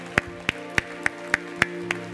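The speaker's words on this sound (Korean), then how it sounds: "우리 하나님께 큰 영광의 박수 올려드리겠습니다" Church congregation clapping in a slow, steady unison rhythm, seven distinct sharp claps about a third of a second apart, clear and close with no talking.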